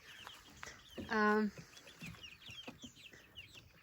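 Chickens clucking nearby, with one loud drawn-out squawk in the middle and scattered softer clucks and chirps around it.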